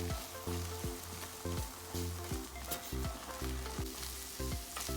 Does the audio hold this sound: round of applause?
no